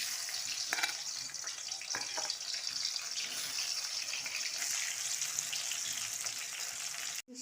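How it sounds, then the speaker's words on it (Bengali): Sweet potato slices coated in salt and turmeric fry in hot oil, a continuous close sizzle with a few brief clinks of a utensil and no talking. "এই মিষ্টি আলুটা প্রথমে ভাজা হবে"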